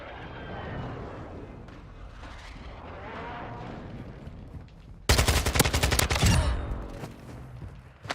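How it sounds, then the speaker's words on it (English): Call of Duty MW2 enemy precision airstrike: a steady roar and rumble builds, then a loud burst of rapid explosive cracks and blasts hits suddenly and sustains, dense and close, tapering toward the end. "Enemy precision airstrike."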